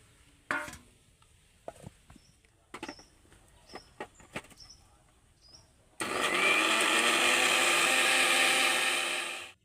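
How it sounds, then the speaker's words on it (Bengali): A few light taps and clicks, then a mixer grinder blending tomatoes and chillies into a paste roars on loudly and whirs steadily for several seconds before cutting off. "এবার আমি মিক্সির জারের মধ্যে দিয়ে দেব দিয়ে মিক্সিতে ঘুরিয়ে ভালো করে পেস্ট করে নেব"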